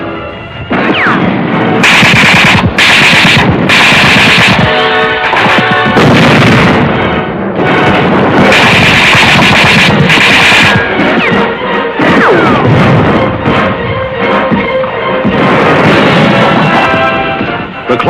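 American tanks fire their guns point blank into a stadium's grandstands during World War II urban fighting in the Pacific, in archive war footage, with loud repeated blasts and crashes over dense, continuous battle noise.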